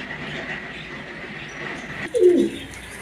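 Soft low cooing from a pigeon or dove near the end, over a steady background hum.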